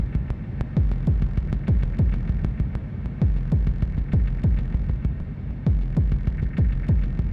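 A cyberpunk-style modular synth patch for industrial hardcore techno pulses with steady, throbbing low kicks, each with a downward-sweeping pitch, over a constant droning hum with a faint feedback edge.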